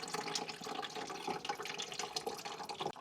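Coolant drains out of an Opel Astra H engine during engine removal, a steady trickling, gurgling flow of liquid heard fairly close and quiet, with no talking.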